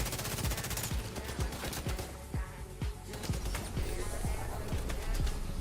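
Rapid rifle fire rings out in the video game The Division 2, with a steady stream of close, punchy shots that repeat at an even rhythm over background game noise.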